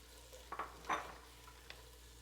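Broccoli stir-frying in sesame oil, heard as a faint, close sizzle with a couple of brief scraping stirs and light pan knocks.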